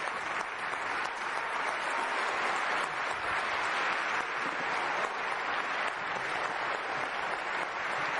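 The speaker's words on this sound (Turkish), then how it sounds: "Şimdi oradaki alkışlayanlara sormak lazım." An audience applauds steadily for several seconds, a dense, even wash of clapping heard at moderate distance with no clear voices above it.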